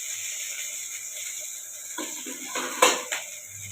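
Rice tipped into a pan of ghee and fried cumin, a few light clinks and rattling scrapes over a steady background hiss, fairly soft and with no talking.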